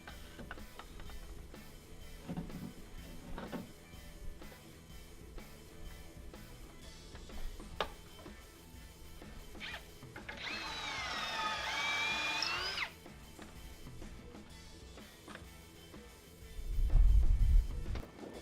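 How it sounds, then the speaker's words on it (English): A power drill bores pocket holes into wooden boards for a simple patio table, heard outdoors by a garage as one sustained whirring burst of a few seconds amid quieter clicks and handling noise. "So now all of our pocket holes are drilled."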